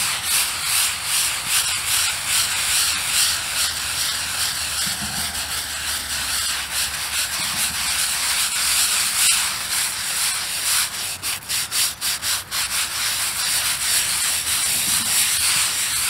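Steady close scrubbing of thick moss growth off a weathered World War 1 veteran's headstone, a continuous rough brushing rasp with rhythmic strokes growing more pronounced near the end, with no talking.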